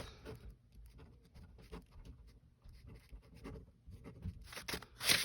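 Pen scratching out rock names such as limestone and shale on paper, a soft irregular scribbling in short strokes, faint and close, with brief louder marks near the end.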